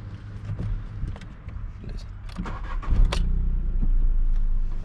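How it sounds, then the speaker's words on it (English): After some talking, a Skoda Fabia III 1.0 MPI three-cylinder engine cranks and catches, settling into a low, steady idle hum with a slightly uneven throb. "3-cylinder engine, make a little bit of a vibration inside the coupe because it's not so balanced."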